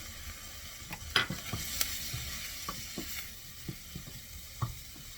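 Fava beans fry in butter with a spice mix, giving a soft continuous sizzle broken by scattered scraping clicks of a spoon stirring in the pan, close and fairly quiet.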